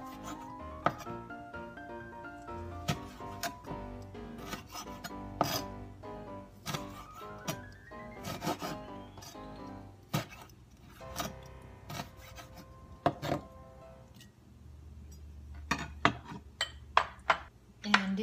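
A knife cutting fresh chili on a board, delivering a series of close, irregular sharp taps and scraping strokes with short pauses between cuts and faint tonal clinks in the background.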